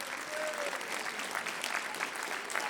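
A concert audience applauds the drummer with sustained, crowded clapping that stays even throughout, heard from within the room, while a voice briefly speaks beneath the applause.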